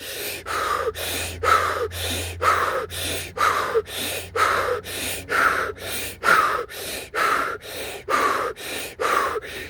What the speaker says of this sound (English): Take 30 quick breaths.